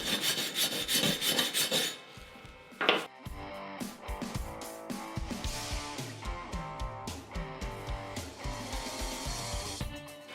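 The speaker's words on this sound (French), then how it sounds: "J'utilise le marteau à piquer pour enlever le laitier et la brosse pour nettoyer le cordon." A chipping hammer knocks slag off a weld bead, then a wire brush scrubs the bead clean, giving close, loud rasping strokes in quick rhythmic bursts with sharp taps between them.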